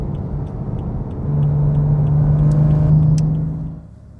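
A BMW M4 with the S55 engine revs hard through its exhaust, a deep rising engine note held steady for a couple of seconds before falling away, loud and close with no talk.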